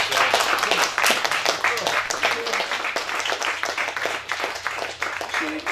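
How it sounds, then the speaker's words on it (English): A crowd applauds loudly and steadily, dense clapping filling the whole stretch with a few voices faintly mixed in. "let's give a warm round of applause for Dr. Paul Williams"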